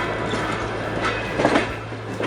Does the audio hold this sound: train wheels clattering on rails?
yes